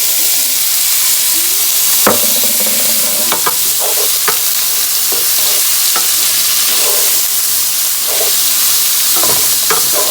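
Pepper hitting preheated oil in a pan for a sausage pasta dinner: a loud, continuous sizzle and hiss with intermittent scrapes and knocks of a spoon stirring, close up.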